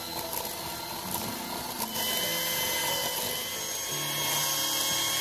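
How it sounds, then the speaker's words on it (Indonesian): An electric hand mixer whirs steadily as it beats butter and sugar together until the sugar dissolves, a continuous motor drone heard up close throughout with no talking. "kita mixer semua bahannya sampai gulanya larut"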